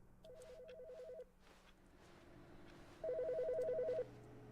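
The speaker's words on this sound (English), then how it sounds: "There's a phone ringing." A telephone rings in the video game The Stanley Parable, two bursts of rapid electronic trilling separated by a pause of almost two seconds, moderately loud over a low ambient hum.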